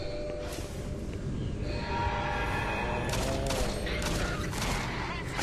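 Doom 3 gunfire during a zombie fight on Mars: bursts of shots under a steady roar of game ambience and music, with a loud crack right at the end.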